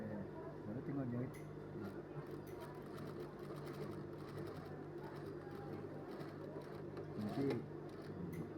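A sewing machine stitches a shirt collar in a quiet room. The whirring runs steadily and softly, with brief rises and a few ticks. Faint bird coos can be heard in the background.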